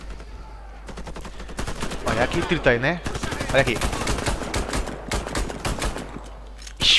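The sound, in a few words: gunfire from the video game Warface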